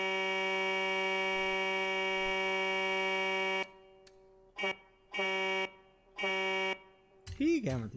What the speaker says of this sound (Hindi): legendary musical horn